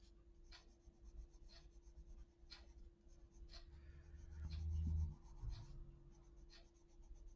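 Coloured pencil strokes scratching across poor-quality paper, a rhythmic series of close, brisk scraping bursts repeated about once every second, with no talking.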